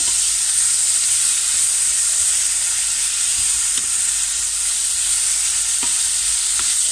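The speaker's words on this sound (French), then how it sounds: "Vous mettez les tomates. Pareil, vous les faites cuire un peu." Tomatoes cooking in a pan for an onion tart, giving a loud, steady broadband sizzle and frying hiss throughout, with a few faint scrapes of stirring and no talking.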